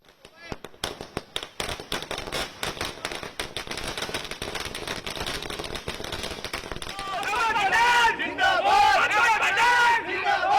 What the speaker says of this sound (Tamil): காங்கிரஸ் தொண்டர்கள் இந்த வெற்றியை பட்டாசுகள் வெடித்து கொண்டாடினர்.